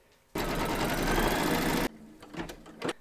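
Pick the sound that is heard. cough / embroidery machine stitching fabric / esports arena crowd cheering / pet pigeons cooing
embroidery machine stitching fabric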